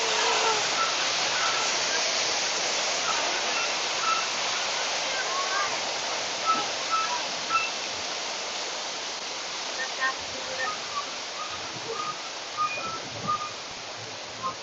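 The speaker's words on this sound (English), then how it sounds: "It's a waterfall." Steady broadband rush of a waterfall, constant and full, with faint bird calls sprinkled over it.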